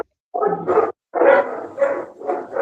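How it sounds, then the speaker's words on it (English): Several three-month-old puppies bark and yelp in quick, close bursts, a few short clustered barks with a brief pause between, loud and alone without talk. "these are 3-month-old puppies I just picked up today"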